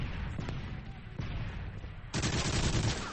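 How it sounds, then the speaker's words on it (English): Gunfire rattles during a CCL tournament match of a video game: sharp single shots early on, then a denser, louder volley near the end, with faint talk over the top. "there's going to be some more shots being fired"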